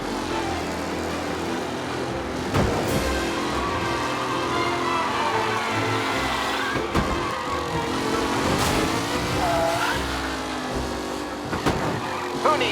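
Race cars in the Mafia Definitive Edition video game roar steadily through a race, with engines revving and shifting over continuous game noise and a few sharp transients.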